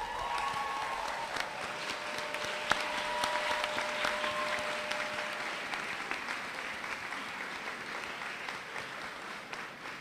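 Sustained applause from a graduation ceremony audience, a broad, even wash of many hands clapping that holds steady for about ten seconds, with a faint tonal hum underneath.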